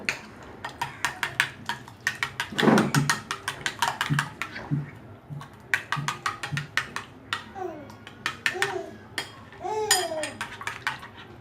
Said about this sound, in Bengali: আমি এখন এভাবে নেড়ে একটু মিশিয়ে দেব।